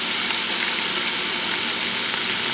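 Chunks of beef browning in an Instant Pot, a loud, continuous close-up sizzle and hiss of frying meat with no talking over it.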